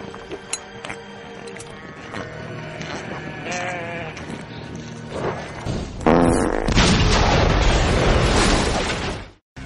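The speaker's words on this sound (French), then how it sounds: "Black Sheep, un film avec des moutons zombies" Sheep bleat in the zombie-sheep horror comedy film Black Sheep: several wavering bleats over a dense, busy soundtrack, then a loud, sustained crashing burst that drowns everything before cutting to silence.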